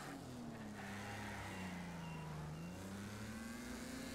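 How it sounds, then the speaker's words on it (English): Race cars thunder around a track in the racing game Wreckfest, engines droning steadily with a rising and falling pitch as vehicles pass close by, loud and continuous with no talking. "we got cars coming through the track"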